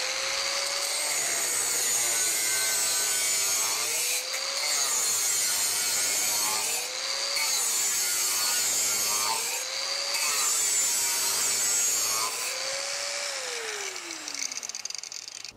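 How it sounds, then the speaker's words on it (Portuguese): A Wesco WS4740 4.5-inch angle grinder cuts steadily, its loud whine dipping and rising in pitch as the blade bites and frees up, with a continuous gritty cutting noise and no talk. "Viram que eu estou cortando, deixando o peso da máquina."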